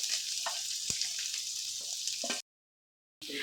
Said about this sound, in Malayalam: ഈ സമയത്ത് നമ്മൾ അരിഞ്ഞു വെച്ചേക്കുന്ന ഉള്ളി, വെളുത്തുള്ളിയും പച്ചമുളകും ഇട്ട് കൊടുക്കാം.